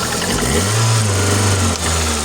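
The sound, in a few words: VAZ Kalina 1.6 car engine misfiring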